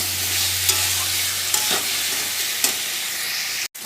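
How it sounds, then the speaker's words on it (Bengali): Fried potato and pointed gourd pieces tossed into spice masala, with a loud, steady sizzle of frying close up and occasional soft stirring scrapes; no voices. "এবার আমি যে ভেজে রাখা আলু পটলগুলো দিয়ে দিচ্ছি, দিয়ে আর একটু ভালো করে কষিয়ে নেব।"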